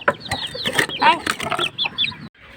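Several chickens cluck and squawk close by in a busy, uneven chorus of short calls, ending in a quieter pause.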